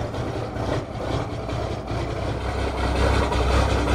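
A truck called Snowman idles with an uneven lope, a continuous low rumbling engine that swells slightly toward the end, heard close with no talking.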